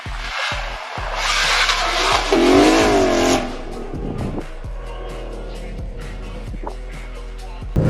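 A Shelby GT500 with catless race pipes revs hard and loud for a few seconds, then drops back to a rough idle with scattered sharp pops and crackles from the exhaust.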